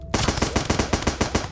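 A fast-firing gun in the game Starbound lets off about a dozen evenly spaced, punchy shots in quick succession, loud and close with nothing else over it.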